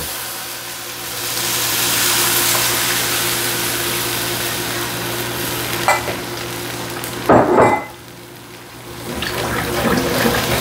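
Whisked stir-fry sauce hits a hot pan with beef and broccoli, producing a loud rushing sizzle that builds and holds, broken by a brief louder splash and scrape before the bubbling settles and rises again.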